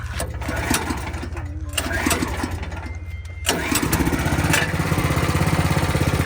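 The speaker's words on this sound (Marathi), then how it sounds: "हे बघा ट्रॅक्टर चालू केलं आपण" A small tractor engine chugging with a rapid, rhythmic putter, starting up and then running steadily and loud close by.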